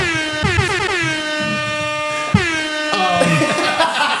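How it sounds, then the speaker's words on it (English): A series of loud, blaring air horn blasts, sustained and back to back, with brief breaks between the long honks. "Hit him with the air horns."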